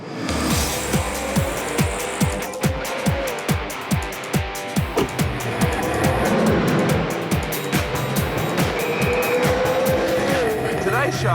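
A race car on a hot lap roars past in repeated loud engine sweeps with tire squeal and skidding through the corners, under a voice talking.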